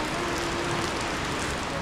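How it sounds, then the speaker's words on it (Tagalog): Steady rain pours down with a constant, dense hiss that does not let up, no voices over it. "Sarap na ulan."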